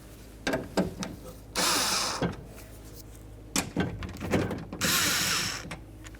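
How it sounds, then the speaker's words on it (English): Hand ratchet working on the 10mm bolts of a 2004-2015 Nissan Titan front door during window regulator replacement, giving short bursts of clicking and two longer rasping spins, close and fairly loud with no talk. "Now for our last two 10mm headed bolts, we're only going to loosen them enough that we can slide them up and out of their channels."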